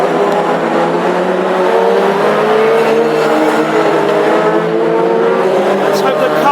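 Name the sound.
Classic Hot Rod race cars racing at Northampton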